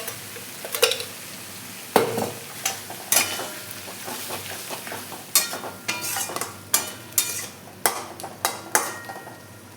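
Ground spice paste fries in oil for a potato and cauliflower curry under a constant sizzle, punctuated by repeated sharp scrapes and clinks of a spoon stirring against the pan, close and rhythmic, with no voices.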